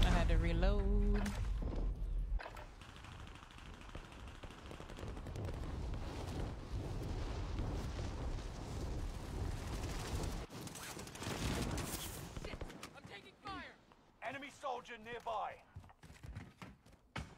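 Rapid gunfire in the MetaworldRP video game, with bursts of shots and loud booms layered over dense game noise and talk for most of the stretch, thinning into scattered sharp cracks toward the end.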